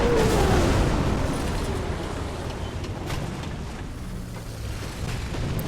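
Panzerwerfer 42 rocket launcher in War Thunder, a loud rumbling blast of rockets firing and exploding that starts heavy and slowly decays into a sustained roar, with no speech.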